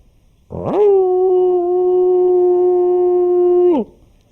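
A human voice imitates a dog with one long, sustained howl lasting about three seconds, rising at the start and dropping off at the end.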